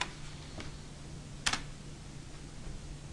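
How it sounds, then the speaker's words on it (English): Faint, sparse keystrokes on a computer keyboard, with a sharper single key tap near the middle against a quiet background hum. "this time I type yes,"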